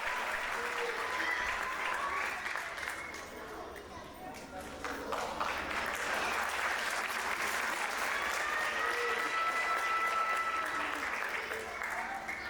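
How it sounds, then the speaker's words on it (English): A crowd at an annual day event applauds the graduating student leader class, a long, steady roar of clapping that dips briefly and then swells again, with voices talking over it. "Let's give them a round of applause as they head off to the world."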